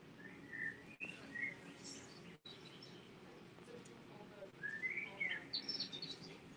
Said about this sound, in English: So I heard bird sounds